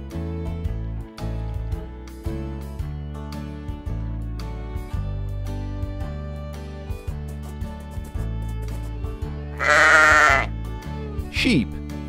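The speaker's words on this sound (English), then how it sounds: "Sheep." A sheep bleats loudly near the end, a wavering cry followed by a shorter second call, over continuous background music.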